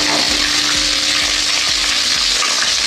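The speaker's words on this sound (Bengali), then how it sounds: "এবারে ওই তেলের মধ্যে বন্ধুরা আমি জিরে আর তেজপাতা ফোড়ন দিয়ে দিলাম" Cumin seeds and bay leaves tempering in hot oil sizzle loudly and continuously, with rhythmic spatula strokes thumping against the pan about every half second.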